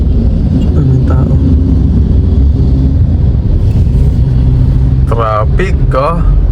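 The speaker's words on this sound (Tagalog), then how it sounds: "Traffic" Road traffic rumbles near Luneta Park in Manila, a dense, loud low roar of passing vehicles with wind noise and brief voices talking over it.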